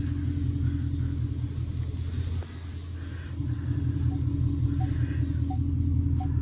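Manual Ford Mustang GT engine idling with a deep steady rumble, a brief dip in loudness partway through, and faint chirps over the constant low throb, no voices.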